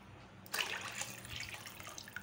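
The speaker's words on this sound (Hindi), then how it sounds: "ये सुबह तक पकेगा तो इसमें टेस्ट आएगा और सही पकेगा, इसलिए इसमें पानी हम लोग इतना डालेंगे" Water pours steadily into a large cooking pot for beef paya, a sudden gushing splash that keeps flowing and burbling, close but fairly soft, with no talk.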